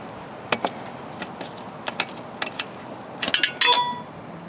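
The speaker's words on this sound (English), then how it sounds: "So this is a 14mm wrench." A 14mm wrench works a rear brake bolt on a Kawasaki ZZR 600 motorcycle, giving sparse, quiet metallic clinks and taps spread over a few seconds, ending in a small cluster of brighter clinks, with no talking.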